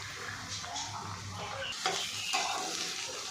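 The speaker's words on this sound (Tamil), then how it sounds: "எண்ணெயிலே வெண்டைக்காய் நல்லா வதக்கட்டும்." Okra frying in oil in a pan for a poriyal, a soft, fairly quiet sizzle with a few sharper stirring clinks near the end.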